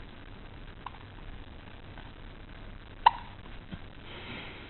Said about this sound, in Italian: Silenzio così sentiamo il singhiozzo